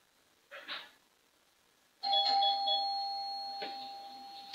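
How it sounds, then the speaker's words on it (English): A doorbell rings with a short chime followed by a louder sustained ding-dong tone that slowly fades, heard alone at moderate volume in a quiet room. "One second, guys, the doorbell."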